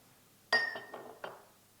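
A hammer strikes a glass-polymer composite sample: one sharp, ringing clink followed by a few lighter bouncing taps over about a second, close and clear in a quiet room.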